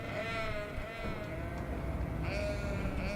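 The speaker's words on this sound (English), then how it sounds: "Loads of sheep and stuff." Several sheep bleat in the video game Cities: Skylines in overlapping, wavering cries over a constant low hum, the calls rising and falling throughout.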